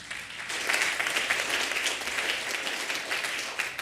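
A church congregation at a Sunday morning worship service breaks into sustained applause, a dense, moderately loud patter of many hands clapping throughout.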